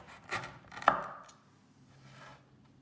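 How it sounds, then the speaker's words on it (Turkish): A knife cuts through hard, dried almond biscotti on a board, giving two crisp crunching chops close up, the second sharper, followed by a faint scraping settle with no one talking. "Gördüğünüz gibi bademler de içinde kestikçe kesiliyor"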